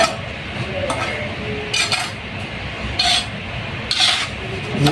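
Cement mortar being mixed with a mason's trowel for cube casting, repeated gritty scraping and rasping strokes at close range, with occasional metallic clinks.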